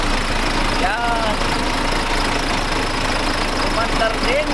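A freshly overhauled diesel engine runs steadily at idle, a loud, close, continuous knocking drone that holds even through the whole stretch.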